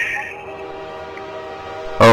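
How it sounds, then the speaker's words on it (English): Train approaching in the Half-Life 2 video game, a low rumbling rolling under a sustained tone, then a sudden loud blaring horn bursting in at the end. "Oh, I hear a train."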